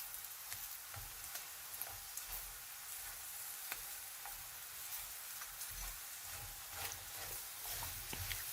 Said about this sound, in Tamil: பொன்னிறமாக வரும் வரையும் பொரிக்க வேணும்